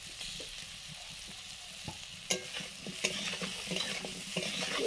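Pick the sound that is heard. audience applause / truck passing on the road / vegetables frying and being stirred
vegetables frying and being stirred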